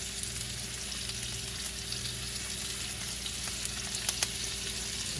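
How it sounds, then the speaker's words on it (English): Lamb chops frying in a pan as snipped thyme is stirred in, a continuous close sizzle with a low steady hum and a few light scrapes, no speech. "Give it a quick mix up."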